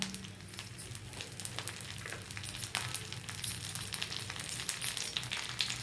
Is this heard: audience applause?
no